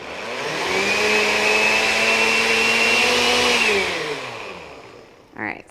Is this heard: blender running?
yes